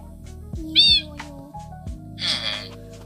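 A cat in a city-building video game gives two meows, a short high one and then a longer, rougher one, over a steady droning game soundtrack with a clicking beat.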